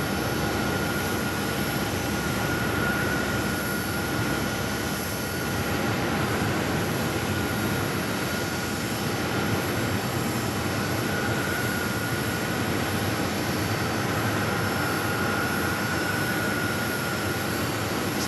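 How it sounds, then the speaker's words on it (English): A SkyWest E-Jet pushing back at Phoenix Sky Harbor airport, heard as a steady, distant jet engine whine and broadband rumble holding evenly throughout, with a high tonal hum above it and no talk. "Another SkyWest E-Jet pushing back."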